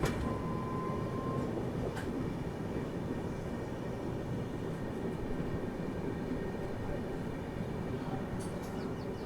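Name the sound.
Shalimar SF Express train arriving at Rayanapadu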